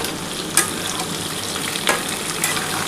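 Vegetables with drumsticks frying in oil for shukto, a steady, close hiss of sizzling with two sharper stirring clicks breaking through.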